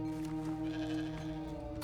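A ewe bleats in the video game Hogwarts Legacy, a clear sustained sheep call heard alone over steady game background music.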